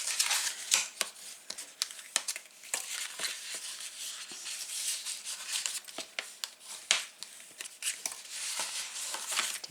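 Score lines on card for a gift box are burnished with a tool, making quiet repeated rubbing and scraping strokes in irregular bursts, close up with no talk.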